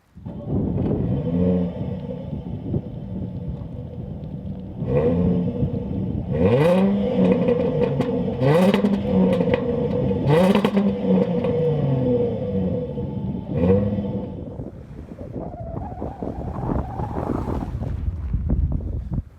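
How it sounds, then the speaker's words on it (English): A 2017 Jaguar XF S 380 hp V6 AWD engine revs repeatedly, sharp rising roars from a throaty exhaust over a steady idle, close and loud, then settling back down. "They're quite powerful, and I think the best thing is to listen to the sound."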